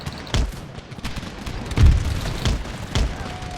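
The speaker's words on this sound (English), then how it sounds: "That's his artillery firing." Artillery fires in the Empire: Total War video game as a handful of deep booms, about five spaced shots over a few seconds, fairly loud against quieter battle ambience with no talk.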